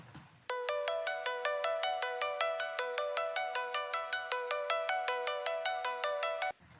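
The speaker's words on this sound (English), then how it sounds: "sitting on top of all that music is a little kind of loopy arpeggiator sounding synth" A looping arpeggiated synth line in an anime theme song, steady rapid repeating bright notes cycling continuously and clearly for several seconds, starting abruptly and cutting off at the end.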